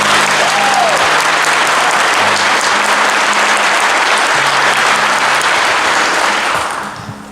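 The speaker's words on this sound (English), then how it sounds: "Let's have a round of applause for these ladies." Loud, sustained applause from a convention audience, dense steady clapping filling the room with a few voices mixed in, tapering off at the end.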